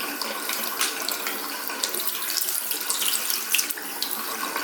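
Tap water runs steadily into a sink while makeup brushes are rinsed and reshaped after shampooing, a constant close hiss with small splashy fluctuations and no talking.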